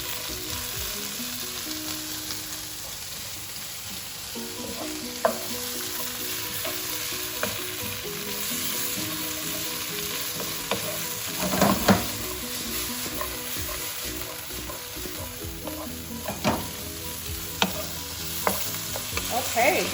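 Vegetables for Singapore curry noodles with shrimp sizzle in a pan, a steady moderate frying hiss broken by occasional stirring scrapes and light clanks of utensil on metal.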